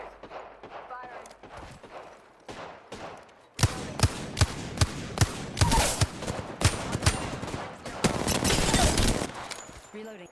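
Apex Legends gunfire erupts after a quieter start into a rapid string of loud, close shots in an irregular burst rhythm, with in-game voice lines heard alongside the shooting.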